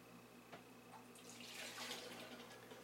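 Evil Twin Brewing Freudian Slip barley wine is poured down a drain, a soft steady splash and gurgle of liquid that swells in the middle and then trails off, over a faint background hum.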